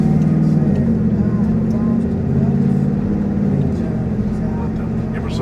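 A 2024 Ford F-150 5.0 V8 with a Stage 2 Whipple supercharger roars under full throttle, a loud, sustained engine note with a rising whine, and a voice talks over it.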